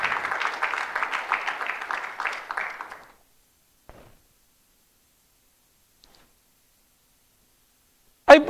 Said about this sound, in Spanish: Dele palmas al Señor si lo cree